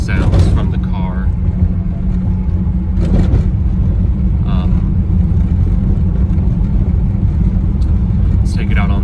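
Inside a 1979 Datsun 280ZX on a country road at 35 mph, a steady low engine and road rumble drones throughout, with occasional small rattles and knocks from the car's interior.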